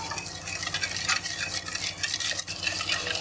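Cream and sugar are stirred together in a bowl, making a soft, continuous swishing and scraping with faint utensil clicks, close and steady with no talking.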